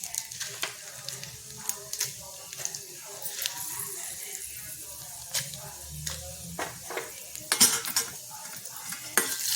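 Cumin, dried red chillies, asafoetida, urad dal and chana dal crackle and sizzle in hot oil, with a spoon clinking and scraping the pan in quick irregular strokes, close by.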